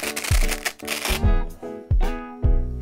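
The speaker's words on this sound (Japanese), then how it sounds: "かなり強力なマジックテープです。" A strong hook-and-loop strap on the fixing belt of a foldable chroma key green screen is torn apart in several short, loud rasping rips with brief pauses between them.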